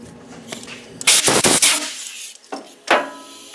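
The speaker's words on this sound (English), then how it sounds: "let's check it with a nut" Steel nut spun by hand onto a freshly die-cut, file-deburred threaded rod end, giving a few short metallic rasping and clinking bursts close by, with a pause between them.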